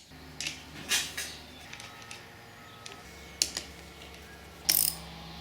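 Ratchet tightening bolts while a plate is installed on a 2007 Husqvarna TE250 dirt bike, giving short clicking bursts spaced across a quiet workshop background with a few sharper metallic clanks.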